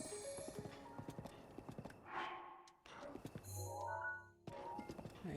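Horse hooves clip-clop steadily in the open world of the video game Breath of the Wild, a close rhythmic trot broken by a brief neigh and a pause before the hoofbeats resume.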